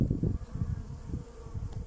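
A weak colony of honeybees buzzing around a hive on a drawn comb frame, a low droning hum that swells and dips in close pulses, fairly near and steady throughout.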